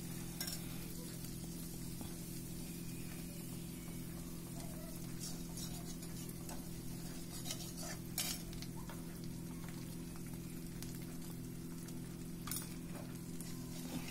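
Ginger garlic paste fries in oil in a kadai with a continuous soft sizzle, punctuated by scraping stirs and occasional clinks of a spoon against the pan; quiet and close.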